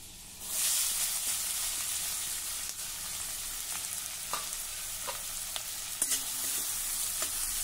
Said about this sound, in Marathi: आता हे आपल्याला थोडं परतून घ्यायचं आहे।